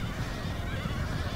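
Mounted horse archers in the Medieval II: Total War battle game whinny amid a dense, steady battle din, the neighing blending into the continuous noise without a distinct break.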